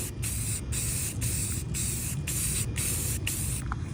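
Rust-Oleum spray paint can spraying during a winter paint job on a RZR, giving a close, continuous hiss broken by brief, regular gaps as the nozzle is pressed in short passes.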